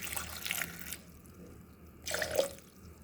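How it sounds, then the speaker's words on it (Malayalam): Water pours into a pressure cooker holding washed yam and raw banana in two short, quiet bursts of splashing, separated by a brief lull. "ഇതിലേക്ക് കുറച്ച് വെള്ളം ഒഴിച്ച് കൊടുക്കാം."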